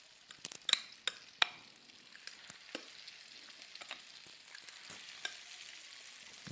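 Meatballs frying in a hot pan, with a steady light sizzle broken by sharp crackles, pops and clicks of turning and placing them, close and fairly quiet with no voices.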